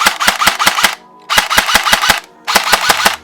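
An Emerbu AK74 toy gel blaster with electric feeding fires on fully automatic: three rapid bursts of sharp, snappy shots, loud and close, separated by brief pauses.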